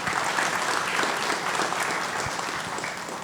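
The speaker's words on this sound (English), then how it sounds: "Let's give them a round of applause." Sustained applause from an indoor audience at a facility inauguration event, steady and loud throughout with no talk over it.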